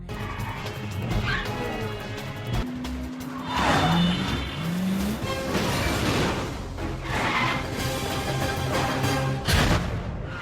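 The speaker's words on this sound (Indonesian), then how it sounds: "Untungnya Jason yang jenius berhasil memanfaatkan berbagai kesempatan untuk menumbangkan mobil musuhnya satu persatu." Film car chase with enemy cars: roaring engines, screeching tires and skids, and heavy crash and smash impacts, loud and continuous throughout.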